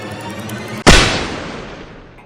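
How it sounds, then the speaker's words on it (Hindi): A single loud gunshot cracks suddenly in a room with loud music, followed by a long, fading echo that trails off over the next second or so. "एक गोली चलती है।"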